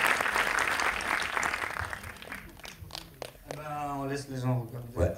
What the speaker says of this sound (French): Donc on l'applaudit très fort malgré son absence.